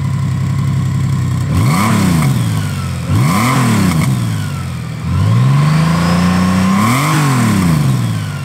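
A 2023 Honda Goldwing DCT touring motorcycle engine revving hard, loud and close, climbing and falling four times in smooth surges, with one longer sustained pull in the middle, no voices.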